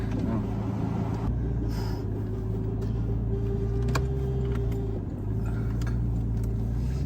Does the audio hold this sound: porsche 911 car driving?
yes